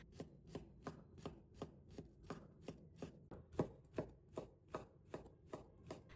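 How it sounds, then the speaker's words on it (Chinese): A knife chops fresh shiitake mushrooms into small dice on a cutting board, about sixteen crisp, evenly spaced thuds in a brisk steady rhythm, close and quiet with no talk. "再切成香菇丁。"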